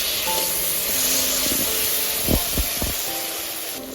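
Spice masala paste sizzling and hissing in hot oil in a pan for a Bengali vegetarian banana-flower kofta, with a steady bright fry and a few sharp scraping knocks as it is stirred.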